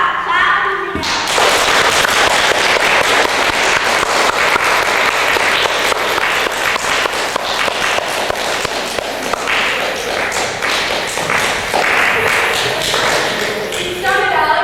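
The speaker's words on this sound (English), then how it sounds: "We must clap with me now." An audience at a theatre performance claps loudly and continuously for a long stretch, a dense crackling wash of many hands close by, with a brief quieter moment before it starts.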